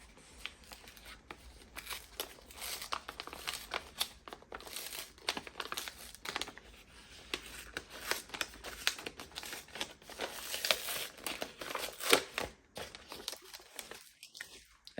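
A paper pouch holding Hobonichi books is handled and opened, giving steady close crinkling and rustling with soft taps, continuous and fairly quiet throughout.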